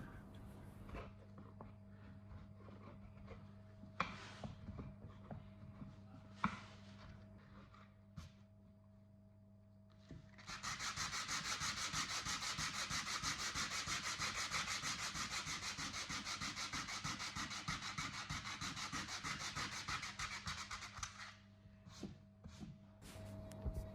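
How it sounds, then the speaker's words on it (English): Continuous sanding on a mahogany work table top, a steady loud rasping stretch of about ten seconds preceded and followed by softer scattered handling knocks and rubbing. "Some final sanding and adjustments before I place back the veneers."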